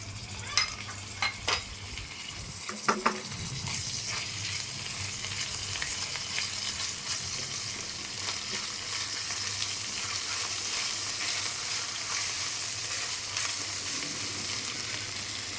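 Panch phoron, garlic and ginger frying in oil for mung dal, a continuous bright sizzle with a few sharp pops and clinks near the start, then an even crackling hiss.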